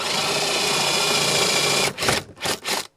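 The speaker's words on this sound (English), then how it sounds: "Drill in from the other side and you'll only get tear out in the hole" A hand drill bores holes into guitar body wood, a steady dense mechanical whir running for about two seconds before stopping, followed by a few short bursts of rustling.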